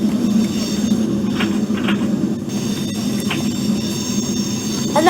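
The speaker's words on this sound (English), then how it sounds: "that sound is obviously meant to simulate another train leaving" Simulated train departing a station in the OpenBVE railway simulator game, a steady rumbling rail and wheel noise with faint squeals, heard alone and continuous throughout.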